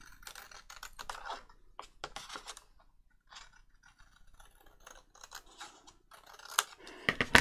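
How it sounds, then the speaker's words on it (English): Scissors snipping paper while making a wild flower folio journal: a quiet, close series of irregular short cuts and rustles, with brief pauses between bursts and a sharper flurry of snips at the end. "I can't get the scissors on the end"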